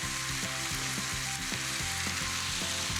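Garlic sizzling and frying steadily in a hot pan, a dense continuous crackle with faint stirring bumps throughout, close and alone without talk.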